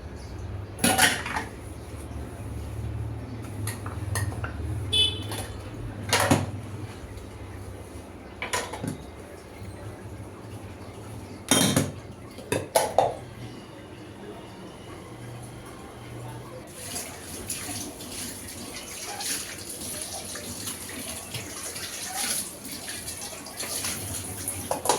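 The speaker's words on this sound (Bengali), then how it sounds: "এখন বাকি থালাবাটিগুলো যে হয়েছে ওগুলো ধুয়ে নিচ্ছি" Dishes and utensils are washed at a kitchen sink, with running water under scattered clinks and clatters of plates and cutlery, some sharp knocks standing out between quieter rinsing.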